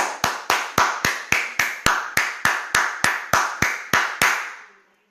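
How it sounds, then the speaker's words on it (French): About fifteen slow, evenly spaced claps ring out at a fundraising event for school-year donations, each crisp and close with a short room echo, stopping abruptly before a brief silence. "Président Mot, on applaudit."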